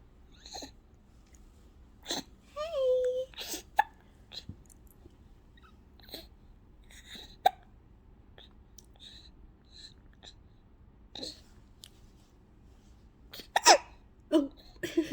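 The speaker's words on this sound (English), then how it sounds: "No, not the hiccups." A baby's hiccups, a series of short sharp hiccups spaced irregularly over several seconds, close and quiet, with soft fussy vocal sounds and a few squeaks between them.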